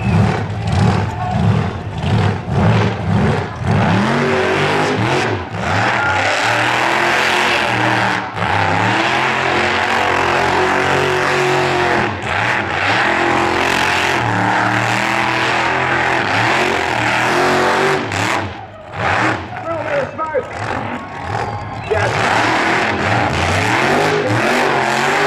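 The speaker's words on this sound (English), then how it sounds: "Absolute drag racing legend Victor Bray done so many burnouts at Summernats, it's insane" Drag car burnout at Summernats in a packed stadium, the engine revving hard and continuously at close range with loud, roaring throttle blips and a brief dip near the end.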